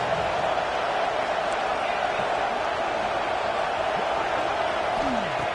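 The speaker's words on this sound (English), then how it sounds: "3rd down and the crowd really getting into it" Stadium crowd in the NCAA 26 college football video game gives a steady, dense roar of cheering and noise that fills the whole stretch without a break.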